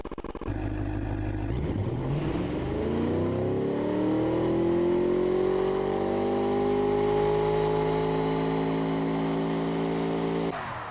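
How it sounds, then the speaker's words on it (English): A luxury grand tourer's turbocharged engine in the Automation and BeamNG.drive games starts up and revs in one long, rising, steady pull, loud and close with no talk, then cuts off. "I'm really happy with the way this engine turned out."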